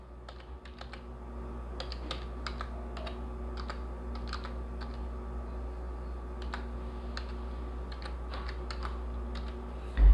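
A website URL is typed on a computer keyboard in a quick, steady run of crisp keystroke clicks over a constant low hum, ending in a louder bump.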